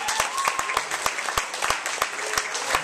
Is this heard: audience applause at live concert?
yes